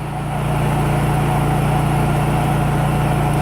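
A Honda EU3000is generator converted to run on propane drones at full throttle, a steady, loud, rapidly pulsing engine hum that builds in the first half second and then holds constant with no voices.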